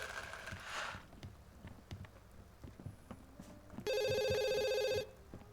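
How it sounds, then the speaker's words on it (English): A telephone rings in The Sims 2 game, a steady electronic trill lasting about a second near the end, over soft game sounds and light footstep-like clicks. "He's going to answer the phone once he finishes."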